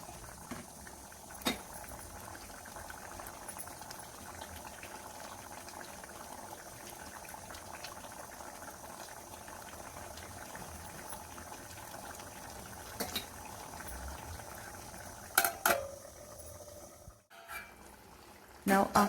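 Sardines simmer in a tangy gravy that is reducing with oil rising to the top, giving a steady, close bubbling boil throughout, with a few brief clatters near the end.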